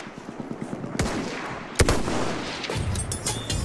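Rifle gunfire in the video game Battlefield 1, with a sharp shot near the start, a louder report with a booming tail partway through, then further crackling shots over continuous battle noise.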